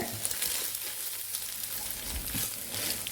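Egg and broccoli fry in a hot pan while being mixed, giving a soft, steady sizzle with light scraping from stirring, fairly quiet and without talk.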